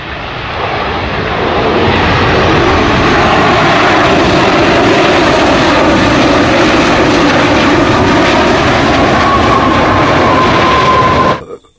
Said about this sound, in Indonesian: Ini adalah pesawat terbang.